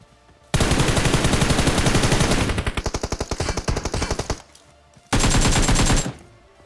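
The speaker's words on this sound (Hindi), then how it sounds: "राइट से हम पे क्या ही तगड़ा फायर आता है" Heavy automatic gunfire in a battle royale shooter: a long loud sustained burst, then a stretch of rapid distinct shots, a short pause, and another dense loud burst with no talk.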